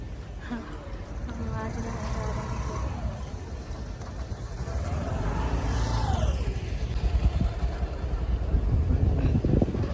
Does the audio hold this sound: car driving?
yes